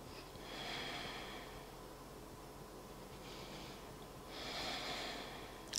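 Slow, deliberate breaths during a beginner yoga session, three long airy exhale-like swells of breath noise rising and fading, close and soft with no talking.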